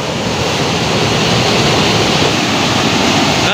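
Fast-flowing canal water at Bhula Jhal with a milky, churning surface rushes loudly and steadily, a dense broadband roar close by with no letup and no voices.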